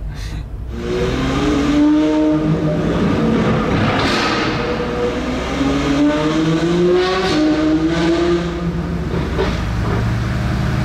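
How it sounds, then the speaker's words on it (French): A matte blue Ferrari 812 GTS with a fully open exhaust revs inside a tunnel, its loud, echoing V12 roar swelling and rising in pitch over several seconds, close and sustained. "812 GTS bleu mat, saoudienne. Échappement complètement libre. Il fait un bruit là dans les tunnels."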